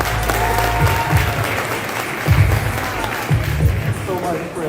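Loud audience applause and cheering in a ballroom at a political candidate meet-and-greet, sustained clapping with whoops rising in waves while voices carry over it.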